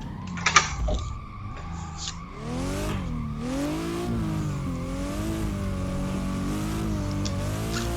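A BMW engine revs and climbs through gears while drifting at Bihoku Highlands in Assetto Corsa, a steady loud drone rising and falling in pitch, with a brief squeal of tires at the start.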